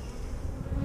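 Honey bees and drones buzzing steadily on a hive frame during a brood inspection, a close, continuous low drone with no talk.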